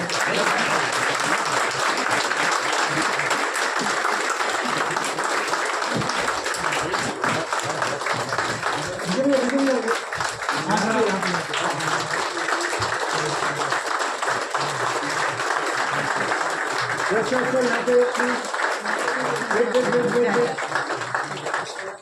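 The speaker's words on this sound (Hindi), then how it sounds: "तालियां बजती रहनी चाहिए।" A crowd at a Brahmin community bride-and-groom introduction conference claps steadily through an honouring on stage, the applause sustained for over twenty seconds while a voice talks over it.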